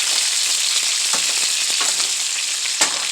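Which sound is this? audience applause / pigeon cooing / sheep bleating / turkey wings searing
turkey wings searing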